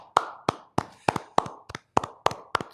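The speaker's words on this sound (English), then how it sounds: "Applause" Close, crisp hand claps, about ten of them at a steady, even pace, sounding like a single small burst of applause with no voices.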